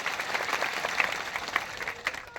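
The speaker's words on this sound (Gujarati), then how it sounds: "સૌને એકવાર જોરદાર તાળીઓથી વધાવી લો." Audience at a village mahapanchayat gathering applauds to welcome guests, a steady wash of many hands clapping at moderate distance, continuous through the moment with scattered louder claps.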